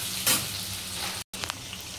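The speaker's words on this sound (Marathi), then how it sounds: "आता आपण जो बारीक कापलेला कांदा होता तो त्याच्यामध्ये तेलामध्ये 2 ते 3 मिनिटं चांगला परतून घ्यायचा आहे।" Finely chopped onion frying in hot oil for misal, a continuous crackling sizzle with a sharp spatter near the start, a brief dropout, then the frying hiss resumes with a few pops.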